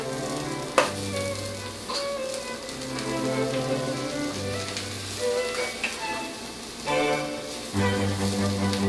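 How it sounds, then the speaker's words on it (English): Tortillas cooking in a hot pan beside sizzling kabocha squash being tossed for tacos, with steady close frying and occasional stirring clinks under background music. "Flip this and toss it while your tortillas are cooking."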